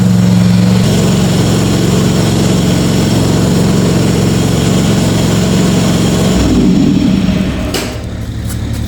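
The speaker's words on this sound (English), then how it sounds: "I turned off the lawnmower so you guys can hear my four-wheeler" A four-wheeler ATV engine idles loud and close with a steady, even drone. It revs briefly near the end, then settles lower.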